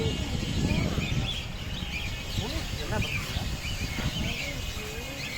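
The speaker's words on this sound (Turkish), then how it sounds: "Çok güzel kuşlar var. Papağanlar var." Birds and parrots, including cockatiels and budgerigars, chirp and call from a large aviary cage at a Buddhist temple in Malaysia, alongside chickens. The overlapping tweets are steady and close, with people's voices in the background.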